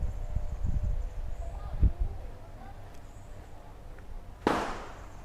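A Mossberg 940 Pro Tactical shotgun fires a single sharp, loud blast near the end during a pattern test, preceded by low murmuring and faint handling noise.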